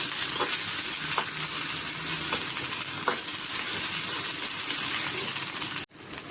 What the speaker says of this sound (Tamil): பெரிய வெங்காயம் போட்டுக்கலாம் வெங்காயத்தை லைட்டாக வணக்கிக்கோங்க